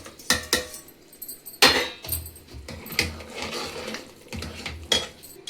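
Metal utensils clink and scrape against a cooking pot as fried pakoras are added to simmering kadhi in a village kitchen, a series of sharp close knocks and clatters with soft stirring between.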